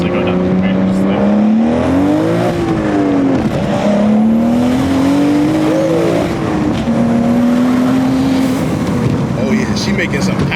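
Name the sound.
built BMW M235i manual car engine accelerating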